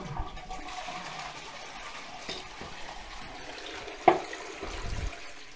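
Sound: toilet flushing after new flush mechanism fitted

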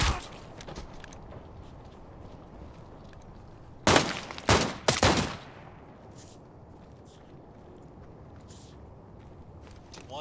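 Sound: pistol gunfire in Arena Breakout Infinite video game

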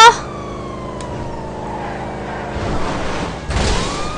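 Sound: police car siren in GTA 5 video game

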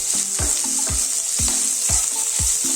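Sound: half an onion frying with chana dal and urad dal

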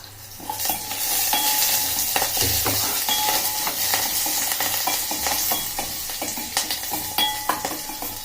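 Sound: green chillies and curry leaves frying in a pan

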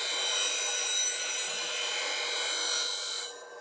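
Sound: grinding steel off a bowl gouge tip on a sharpener

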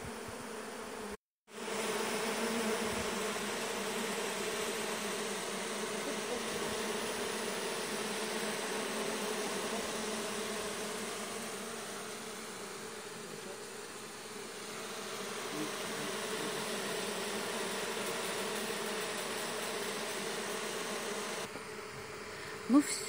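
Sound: bee swarm buzzing while settling into a hive

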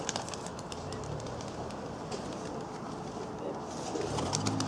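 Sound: Baku pigeons cooing

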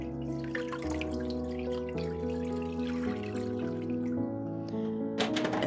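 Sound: water poured into a large pot over chicken breast

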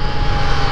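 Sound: motorcycle engine pulling hard

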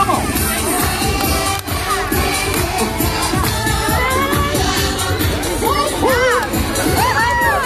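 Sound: crowd shouting Yahoo at a Disney Hollywood Studios show

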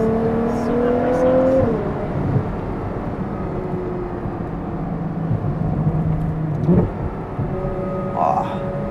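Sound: Ferrari sports car exhaust while accelerating

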